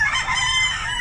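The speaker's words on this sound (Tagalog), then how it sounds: "Apat na manok na pula" Rooster crowing among a group of four red chickens, a sustained bright call held steadily for about a second, fairly close and loud, with no talking over it.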